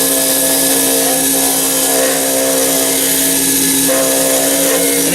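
A wood lathe spins a pen blank while a skew chisel cuts it, giving a steady, loud motor hum with a continuous whirring drone and faint scraping of the tool against the wood.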